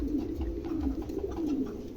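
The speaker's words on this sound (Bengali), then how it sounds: "এক্সিবিশন হোমার আছে দেখেন, চমৎকার" A pair of exhibition homer pigeons, an Andalusian male and a black female, coo in low, steady rolling murmurs close by with no talk.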